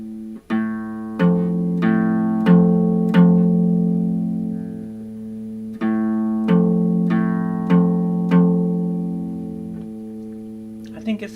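An acoustic guitar with one out-of-tune string, played by a beginner practising, gives two groups of single down strums, each with several ringing strikes that decay between hits, with a short pause in the middle.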